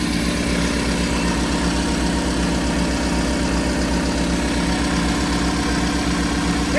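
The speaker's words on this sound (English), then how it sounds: "Here's the front of the fire truck." A large fire truck engine idling close by, a loud steady low throb with a regular pulsing rhythm and faint rattling vibration, no talk.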